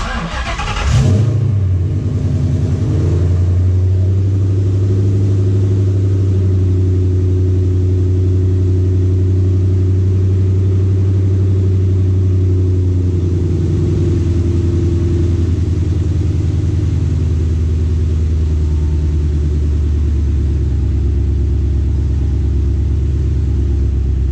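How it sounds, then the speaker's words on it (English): A car engine cranks briefly and catches, then settles into a steady, loud idle rumble that runs on evenly for over twenty seconds with no talk. "crank the engine just to double check that our RPMs are reading correctly"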